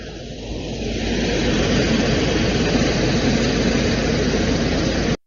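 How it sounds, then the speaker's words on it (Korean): A Chevrolet car engine runs, a loud, steady drone that swells in over the first second and holds constant before stopping abruptly. "다음은 쉐보레 RT1 엔진 소리."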